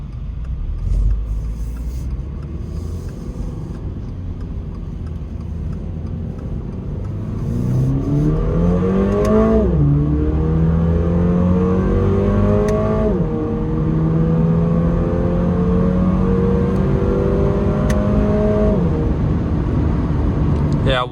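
A 2022 Toyota GR86 pulls hard up the rev range while merging onto a highway, its engine note climbing in rising harmonic sweeps with paddle-shifted upshifts between, loud and close from inside the cabin over steady road rumble.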